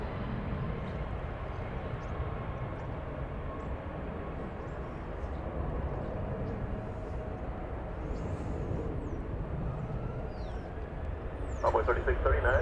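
An American Airlines jet takes off from runway 18 left at DFW Airport, a broad steady engine roar that swells slightly toward the end, with faint voices in the background.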